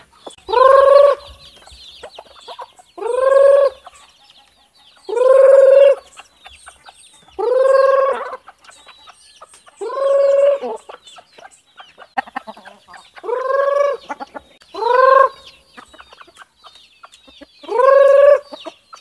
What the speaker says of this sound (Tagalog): Papakainin natin yung ating alagang mga manok.